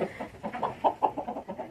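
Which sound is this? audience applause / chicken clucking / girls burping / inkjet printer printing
chicken clucking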